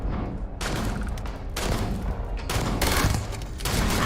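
Sustained automatic gunfire from the Starfield video game comes in loud bursts separated by brief gaps, close and dense, with no speech over it.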